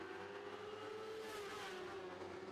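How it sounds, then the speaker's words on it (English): Lightning sprint race cars accelerate in a pack down the front straightaway of an oval racetrack, a steady loud engine roar with a slowly shifting pitch, no talking. "Big drag race down the front straightaway and into turn number 1 and 2."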